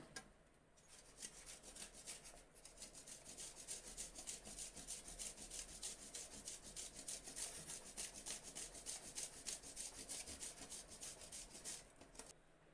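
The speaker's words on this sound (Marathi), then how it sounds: "आता आपण ही काकडी किसून झाली ना त्यातच आपण गुळ पण किसून घेणार आहोत" Jaggery being grated over a bowl of grated cucumber, a steady quiet rasping scrape repeated in a fast even rhythm for several seconds with no voices.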